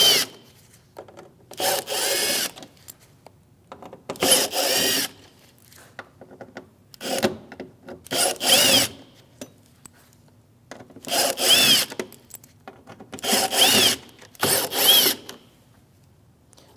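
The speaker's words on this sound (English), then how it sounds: "we're going to take these top screws off going across, and this is a T15, it's a Torx bit" A power driver fitted with a T15 Torx bit spins out headlight trim screws on a 2016-2025 Chevrolet Malibu, in about seven short whirring bursts separated by quiet pauses, close and fairly loud, with no speech.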